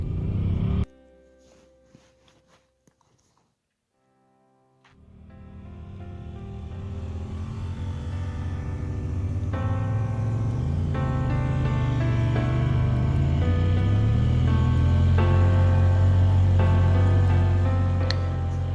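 A Polaris off-road vehicle climbs a steep hill on a mountain trail, its engine starting after a short quiet pause and building into a loud, sustained, rumbling climb with rattling and rough-terrain noise.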